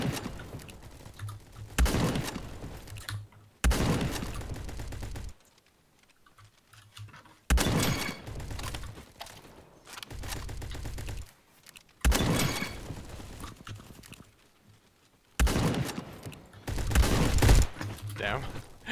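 Video game gunfire from sniper rifles and shotguns comes in several bursts of sharp shots and rattling clatter, separated by quieter gaps, with players talking in between.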